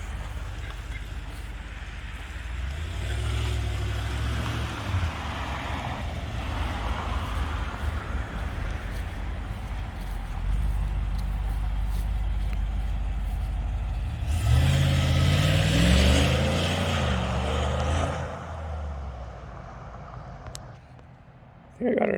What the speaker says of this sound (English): I'm driving around the new and improved Cadillac.